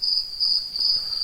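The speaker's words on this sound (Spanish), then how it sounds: "que son los grillos" Crickets chirping as an ambient background effect for a tabletop role-playing session, with a steady high-pitched trill that pulses continuously and sits alone at moderate level.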